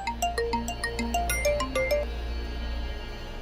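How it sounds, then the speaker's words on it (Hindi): A phone's melodic ringtone plays a quick run of bright electronic notes for about two seconds, then stops, leaving a faint low hum in a quiet indoor room. "ये बार बार फोन कौन कर रहा है?"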